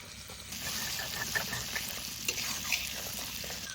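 Ginger garlic paste frying with onion paste in a pan, a soft continuous sizzle with occasional scraping stirs and light clicks of a spoon, fairly quiet and with no voices.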